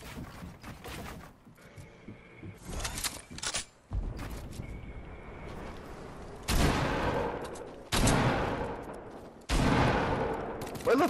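Gunfire in a Fortnite match: scattered shots early on, then several loud, close bursts that hit abruptly and trail off, separated by quieter gaps.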